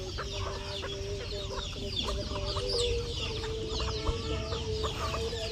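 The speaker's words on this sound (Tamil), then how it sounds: "எல்லாமே நல்ல தரமான நாட்டுக்கோழிகள் தான்." Free-range country chickens clucking and calling in a group, repeated short clucks with occasional louder squawks, moderately near over a steady outdoor background.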